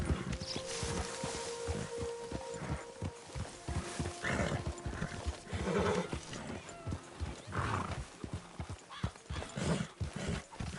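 Hooves clop steadily in a PS4 video game, with a horse snorting and whinnying over a busy background.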